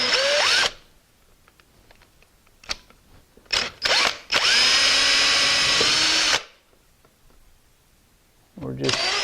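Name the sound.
power drill drilling into door frame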